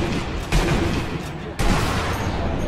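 Sniper rifle shots ring out in the Sniper Elite V2 video game, two loud booming reports with long rumbling tails amid continuous dense game noise.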